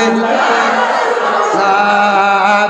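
At a Bengali Islamic sermon gathering for Eid-e-Milad-un-Nabi, a large crowd shouts in loud unison in reply to a Nara-e-Takbir call, a sustained, rich chant of many voices.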